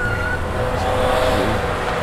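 A garbage truck drives along, giving a steady, moderately loud engine drone with a low rumble. No voices are heard.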